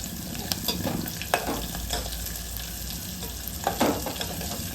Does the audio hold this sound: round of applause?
no